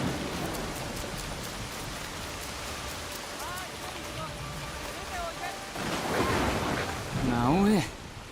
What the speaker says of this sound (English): It's really raining at our hideout.